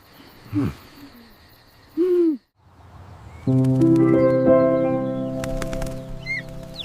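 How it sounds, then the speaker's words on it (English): An owl hoots a few times at moderate distance against a quiet night background, followed by a swell of soft instrumental music. "It is just an owl, Kai"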